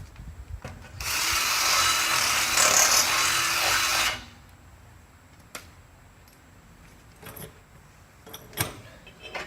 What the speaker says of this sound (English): Let me run the drill bit through there one more time.